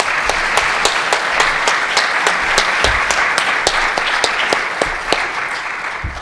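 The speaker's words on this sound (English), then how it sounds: "let's give them another round of applause." An audience claps for a panel at a Seton Hall Socratic session, steady dense applause with a few sharp individual claps standing out, loud and close, no voices.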